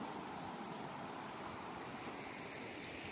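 River water flows at the Indraprayag confluence with a continuous, even rushing wash, broadband and steady, faint but unbroken, with no voices.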